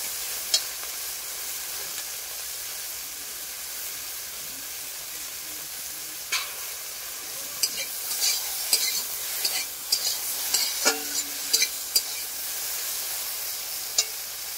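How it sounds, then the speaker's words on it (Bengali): Okra fries in a pan with a steady bright sizzle, and sharp scraping stirs and clacks of a spatula come in irregular bursts, growing busier toward the end, close and without talk. "তাই আমি একটু ভেজে নেবো ঢেঁড়সটাকে। ঢেঁড়সটাকে আর একটু ভেজে নিলাম।"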